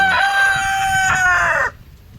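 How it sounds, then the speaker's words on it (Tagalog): A rooster crows loudly and close, one long drawn-out call that cuts off abruptly, leaving quiet background afterward. "Ang gugulo ng manok natin guys."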